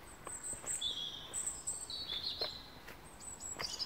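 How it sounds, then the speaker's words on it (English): Birds chirp and sing outdoors on a Scottish island at moderate distance, high repeated calls over a steady background hiss of wind or weather. "where we only have the sounds of the birds and the weather"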